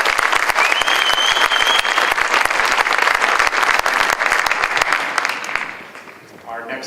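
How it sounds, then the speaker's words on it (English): An audience at a county prom promenade gives a couple a round of applause, with loud, sustained clapping and crowd noise that fades near the end. "give them a round of applause"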